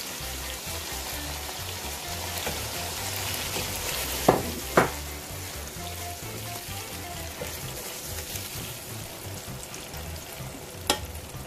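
Chopped tomatoes hit hot oil in a chicken karahi, giving a continuous close sizzle and frying hiss with stirring scrapes and a couple of sharp metallic clinks of a spoon against the pan.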